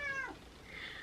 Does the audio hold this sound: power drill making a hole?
no